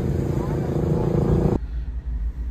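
A big motorcycle roars past on the Tagaytay–Calamba Road in Tagaytay City, a loud, steady engine rumble close by that cuts off abruptly partway through, leaving only quieter background noise.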